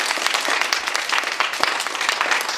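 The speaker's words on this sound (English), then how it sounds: "let's give another big round of applause to our special guest" An audience gives a dense, loud round of applause for a special guest, illustrator Will Moses, with many hands clapping steadily and evenly throughout the short burst.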